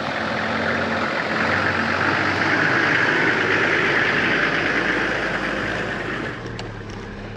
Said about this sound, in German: Der Motor geht auch so an.